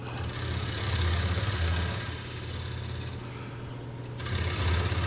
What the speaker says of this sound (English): I'm cutting the mortise for when I reverse mount this onto the four-jaw